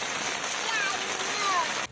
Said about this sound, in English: Rain descended on southern Taiwan on Saturday afternoon.